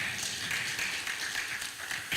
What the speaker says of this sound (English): Round of applause from Tony